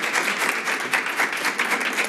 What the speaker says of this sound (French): joignez-vous à moi pour applaudir notre invité